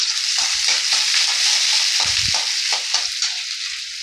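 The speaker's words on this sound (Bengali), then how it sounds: "কালো জিরে দিয়ে এই একটু পেঁয়াজ দিয়ে দিচ্ছি" Onion and black cumin fry in hot oil, a loud, dense, continuous close-up sizzle with a few soft stirring knocks underneath.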